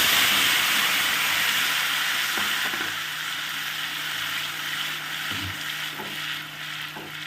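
Spice paste sizzles in a pan for Bengali aloo dum potato curry, a steady close frying hiss with a few soft clinks from stirring.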